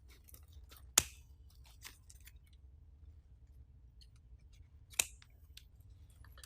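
Scissors snip deco mesh for a wreath, two sharp, distinct cuts a few seconds apart over a quiet room with faint rustling between them.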